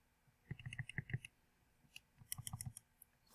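Calculator buttons pressed in two quick bursts of crisp plastic clicks, entering a multiplication, close and fairly quiet with a short pause between the runs.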